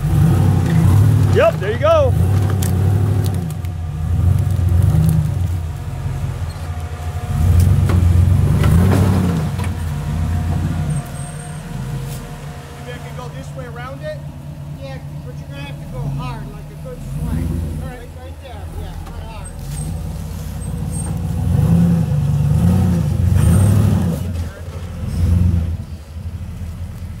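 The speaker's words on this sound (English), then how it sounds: "So you're just spinning on your rear diff." Off-road vehicle spinning on its rear differential in the Vermont badlands, engine droning and revving in long swells with tyres churning, close and loud, while people talk over it.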